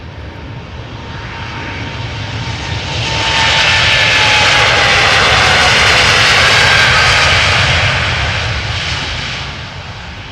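Airplane jet engines roar at Amsterdam Schiphol Airport during departures, swelling to a loud sustained rumble in the middle and then slowly fading, with no voices over it.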